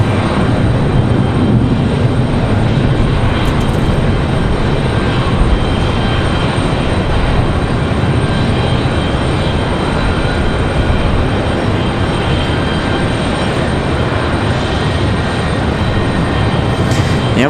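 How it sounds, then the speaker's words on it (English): A United airliner waits at the end of the runway at Raleigh Durham International Airport, its engines a steady, loud, broadband roar that holds unchanged throughout with no voices. "Looks like we got a United sitting out at the end of the runway waiting for departure."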